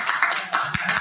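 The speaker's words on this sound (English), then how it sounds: "We can go ahead and round of applause for him." A church congregation gives a round of applause for a member on his birthday, a dense wash of many hands clapping at moderate distance with a few louder individual claps standing out.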